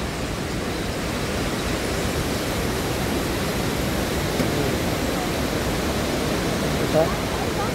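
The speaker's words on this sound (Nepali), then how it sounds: "मनमोहक झरना छ" A waterfall on the trail to Annapurna Base Camp gives off a steady, broad rushing roar. The sound is continuous and fairly loud, with no breaks.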